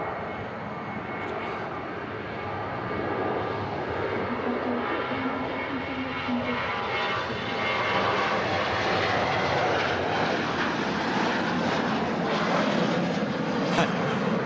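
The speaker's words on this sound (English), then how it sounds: "Long haul aircraft taking this aircraft down to Toronto" A long-haul airliner bound for Toronto at Manchester Airport produces a broad, steady engine roar that swells slightly louder over several seconds, heard from a distance outdoors.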